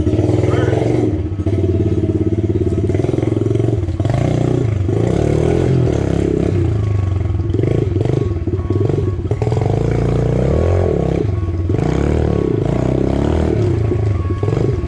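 A new pit bike's engine revs hard on its first ride, a loud continuous raspy roar rising and falling in pitch throughout, close and dominant.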